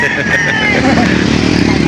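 Chickens and roosters at a busy poultry market in Laguna, with crowing and clucking mixed into a loud, dense crowd din and voices throughout.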